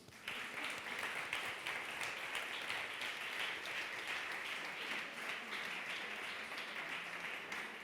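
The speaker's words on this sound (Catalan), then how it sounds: "Un fort aplaudiment." Sustained audience applause at a 2021 awards ceremony for non-sexist communication, steady clapping from a crowd filling the room as award recipients come up to the stage.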